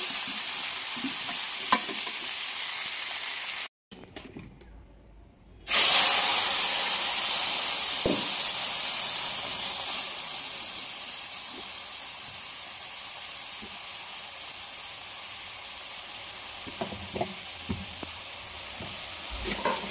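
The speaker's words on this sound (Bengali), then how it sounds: "নতুন আলু নিয়ে এসছে, আলুটা আগে ভেজে নিই।" New potatoes frying in oil in a pan for aloo dum, a loud close sizzle that briefly drops out, then resumes with a hissing surge and settles into steady frying with occasional stirring clinks.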